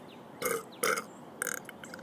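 A person lets out three loud, close burps in quick succession, each a short raspy belch separated by brief pauses, with no talking over them.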